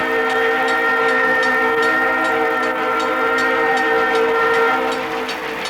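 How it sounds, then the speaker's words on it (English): A New York, Susquehanna & Western train from the 1980s rumbles past close by at Stone Road in Cassville, New York, with a continuous roar, rhythmic wheel clatter, and a sustained horn tone running through. "We start out with the first train going out of Binghamton."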